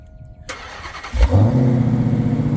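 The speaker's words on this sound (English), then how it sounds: "Start up the car once again." A Dodge Charger Hellcat Redeye wide-body's engine cranks and roars to life with a loud rev, then settles into a deep, rumbling idle, close by.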